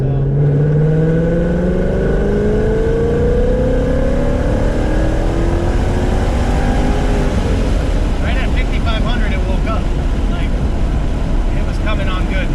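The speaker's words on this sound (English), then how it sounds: "we'll start doing wide open throttle pulls" A Vortech supercharged 2019 Mustang GT on E85 makes a loud wide-open-throttle pull, its engine note climbing steadily through the revs over strong wind and road roar, then backing off near the end.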